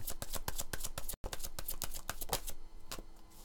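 Guidance cards being shuffled in a tarot-style reading, a fast run of crisp, close riffling snaps that pauses briefly midway and then carries on steadily.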